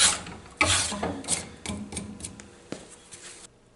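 A hand plane shaves a wooden board for a spatula in a series of rough, rasping strokes, each a loud close scrape followed by a short pause, with no talking.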